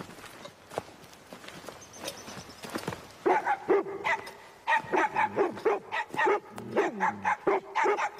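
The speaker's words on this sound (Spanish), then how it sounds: "Controla a tus perros." Several dogs bark repeatedly in an outdoor scene, loud and close, with sharp rhythmic barks dominating the second half after quieter rustling and footsteps.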